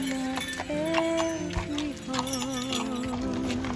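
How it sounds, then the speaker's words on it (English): A horse clip-clops along a snowy street at a Christmas market in Munich, its steady hoof beats moving under a bed of music and crowd murmur with occasional voices nearby. "Horse."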